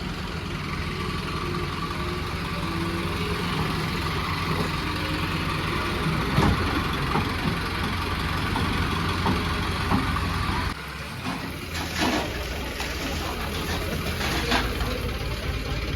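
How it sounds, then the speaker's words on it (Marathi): A tractor engine runs steadily while murum soil is dumped outside a rural home, a continuous low rumbling drone with a brief dip and some clattering bursts toward the end. "ट्रॅक्टर आलेला आहे मुरुम टाकायला"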